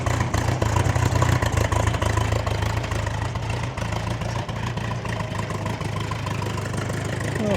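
A Bombardier Bombi engine fitted with a Holley Sniper 1100 fuel injection unit idles after a manifold leak repair, a steady close mechanical rumble with a slight uneven lope.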